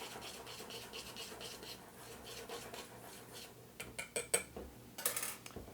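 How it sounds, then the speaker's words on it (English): Flour, baking soda and salt whisked in a bowl, a quiet rhythmic scratching and rubbing that turns into sharper, brisker strokes toward the end. "Give this a whisk."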